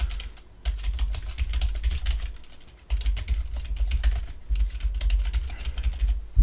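Someone types an email address and password on a computer keyboard, a dense run of quick clicking keystrokes in bursts with brief pauses, close up and alone.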